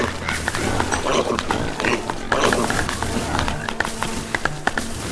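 Repeated pig grunts and oinks from the video game Don't Starve over a busy, noisy background, with occasional sharp clicks and a faint voice now and then.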